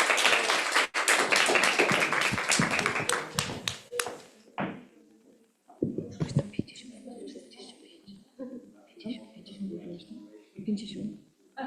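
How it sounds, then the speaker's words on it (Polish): Brief burst of applause at a Polish association's general meeting, a roomful of hands clapping densely for a few seconds before breaking off, followed by scattered taps and murmured talk. "Oklaski"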